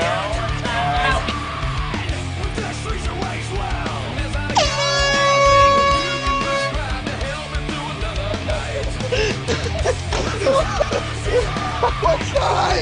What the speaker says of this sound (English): Let's do the air horn right now.